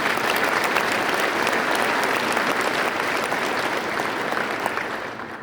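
A large audience at the Navy League Sea Air Space opening session gives sustained applause, a loud, even roar of clapping hands that holds steady and eases slightly near the end.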